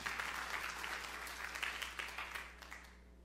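A church congregation claps at a sermon, a broad wash of hand claps that stays steady and then thins out toward the end, heard from some distance at a low level.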